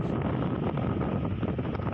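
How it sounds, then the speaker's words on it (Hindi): Strong wind and a roaring sea on the Lasbela coast of Balochistan during a storm, a loud continuous rushing roar with microphone buffeting and no voices. "तेज हवाएं चल रही हैं और समंदर शोर मचा रहा है"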